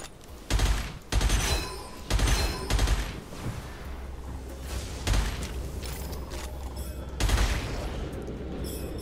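Gunfire in Gunfire Reborn, a first-person shooter, with loud shotgun blasts alongside repeated shots from a standard weapon, arriving in bursts of several sharp booms separated by brief lulls and a steady game background.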